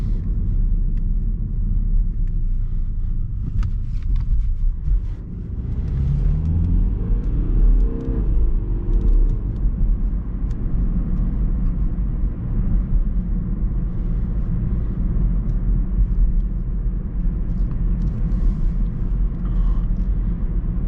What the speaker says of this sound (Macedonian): Многу малку стискам на папучата за газ, а се приметува дека има многу поише снага.